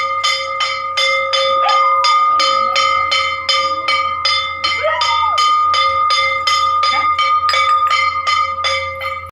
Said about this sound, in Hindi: जैसे ही प्रभात फेरी निकली थी और घंटी की आवाज़ आई थी